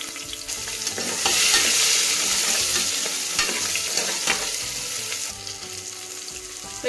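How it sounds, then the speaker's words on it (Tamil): Garlic cloves and whole small shallots sauté in hot oil, giving a loud, steady crackling sizzle close up, with occasional scraping from stirring and no voices. "இதில் பூண்டு ஃபஸ்ட்டு போட்டுக்கலாங்க இதோடவே சின்ன வெங்காயத்தையும் போட்டுக்கலாம் ஏன்னா முழுசாக இருக்கிறதுனால இதுவும் சேர்ந்து வதங்கிக்கும்"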